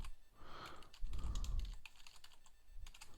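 Rapid clicking keystrokes on a computer keyboard, close and fairly quiet, a steady patter with a low rumble of handling underneath.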